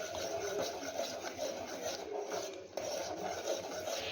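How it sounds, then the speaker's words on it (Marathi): Masala paste fries in oil for a spicy chicken curry and is stirred and scraped in the pan, a continuous close rasping, scraping sound with a brief drop partway through and no talk. "या मसाल्याला छान असे तेल सुटेपर्यंत आपल्याला हा फ्राय करून घ्यायचा आहे"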